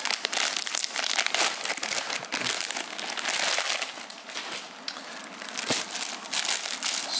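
Tissue paper crinkles and rustles steadily while a Human Made by NIGO Curry Up Chef tee, size XXL, is unboxed, with close crumpling sounds running throughout and one sharper crunch near the end.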